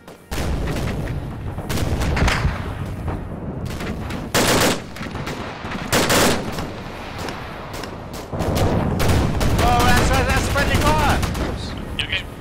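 A close air support gun run in a military video game rips through the air in long, loud bursts of rapid cannon fire and heavy booms, separated by short gaps, with radio chatter and voices in between.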